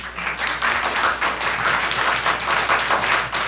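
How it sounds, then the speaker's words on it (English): An audience applauds at a city planning commission meeting: a dense, even round of many hands clapping throughout, moderately loud in a room, with no speech over it. "can we please hold her applause till she is done"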